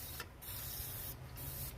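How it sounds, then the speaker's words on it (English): WD-40 sprayed onto a motorcycle chain in a home garage, a close, continuous aerosol hiss broken by a few brief pauses between bursts. "So what I'm going to do on the chain is actually spray it down with WD-40"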